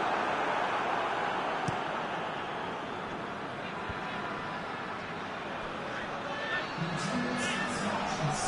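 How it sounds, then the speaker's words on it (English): A stadium crowd murmurs and roars steadily throughout a football match in the video game PES 2020, a broad continuous wash of noise with commentary voices over it. "Crowd appreciates good football all round there."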